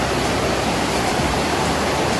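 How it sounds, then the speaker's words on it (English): Tumpak Sewu waterfall in East Java roars as a dense, continuous wash of falling water, loud and even throughout with no voices. "waterfall"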